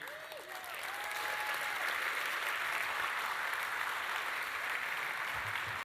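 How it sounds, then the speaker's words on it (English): Sustained applause from a large audience at a tech event honoring the Liquid AI team, steady dense clapping filling the room for several seconds without speech. "please give a round of applause for the Liquid AI team"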